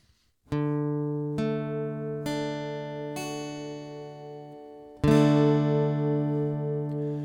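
Single guitar notes plucked one at a time, each ringing out with a slow pause between, then one full strum ringing loudly at the end.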